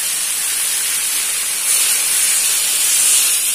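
Water poured into a hot pan while cooking tempe bacem, giving a loud, steady broadband hiss and sizzle that swells and grows a little stronger partway through, with no talking.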